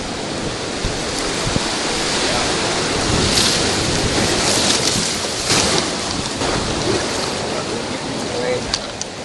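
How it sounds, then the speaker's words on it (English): Whitewater on the New River pours over a big hydraulic, a dense, roaring wash of rushing water that stays loud and constant, with brief louder surges partway through. "Water pours over that thing. Big hydraulic right there."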